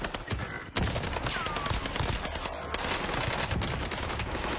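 Sustained automatic fire from an MP40 submachine gun in a shooter video game, a dense, close rattle of rapid shots that carries on almost unbroken, with a faint high whine running through it.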